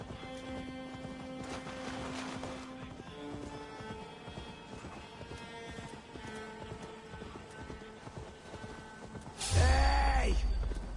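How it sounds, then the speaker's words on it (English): Horse hooves clip-clopping steadily while riding through a forest in Assassin's Creed Valhalla, a rhythmic patter under game music, ending in a sudden loud burst of noise. "I'm riding my horse through a forest"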